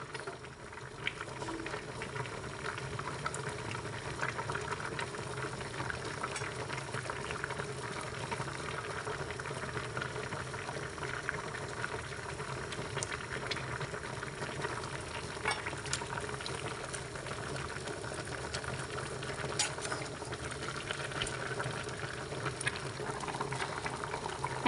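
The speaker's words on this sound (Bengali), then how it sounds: "এখন আমাদের পেঁপে সিদ্ধ হয়ে গিয়েছে।" Raw papaya pieces boil in a pot of water, a steady, dense bubbling and simmering hiss that runs unbroken throughout, with no voices over it.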